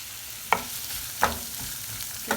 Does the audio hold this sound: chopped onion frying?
yes